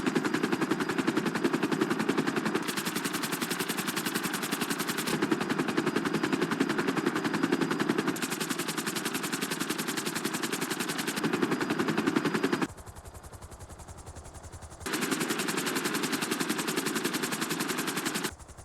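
A helicopter in GTA 5 descends toward a rooftop helipad, its rotor chopping in a loud, steady rapid thud that drops briefly quieter near the end before resuming.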